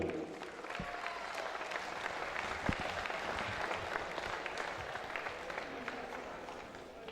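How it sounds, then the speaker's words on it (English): A crowd at a national karate championship applauds its medal winners and competitors, sustained even clapping filling a large hall with a few sharper claps and murmured voices beneath. "round of applause to all your medal winners and all your competitors for the last couple of days"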